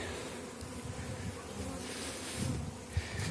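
A steady, dense buzzing hum of many bees close by around their hives, continuous throughout with slight swells in loudness.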